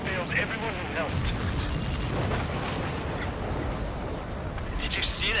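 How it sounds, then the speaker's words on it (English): A missile strike blows up a supply ship in the flight combat game Ace Combat 7, a broad rumbling blast under steady jet engine roar and radio chatter, with a sharper burst near the start and another near the end. "Did you see that explosion?"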